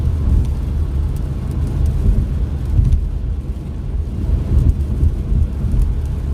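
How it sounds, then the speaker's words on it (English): Heavy rain pours during a drive on the I-87 highway in New York, a constant dense hiss with low road rumble, steady and loud throughout. "I don't know if you guys can hear the rain."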